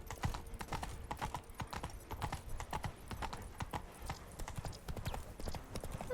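Roach the horse trotting in The Witcher 3: Blood and Wine, steady quick hoof clip-clops on a road, moderately close and continuous, with a brief snort near the end.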